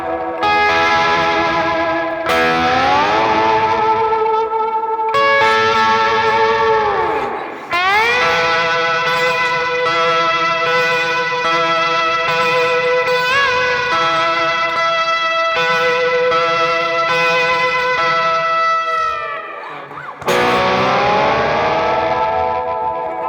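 Distorted electric guitar drenched in reverb playing worship song chords, sustained chords ringing and swelling with heavy gain, a few brief cuts and pitch bends, loud and continuous.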